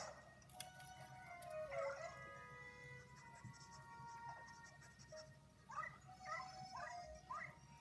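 A dog in the video game Luigi's Mansion 3 barks, whimpers and lets out short howl-like yips in several bursts, over a low game background hum.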